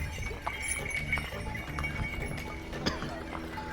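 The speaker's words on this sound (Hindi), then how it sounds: "यहाँ पे घोड़े का इस वाले रास्ते पे अलाउ नहीं है, फिर भी भाई ये शॉर्टकट के चक्कर में इधर से लेके जा रहे हैं" Horses carrying pilgrims clip-clop along a narrow mountain shortcut on the Kedarnath trek near Gaurikund, with irregular hoof strikes set against a steady outdoor crowd murmur and faint voices.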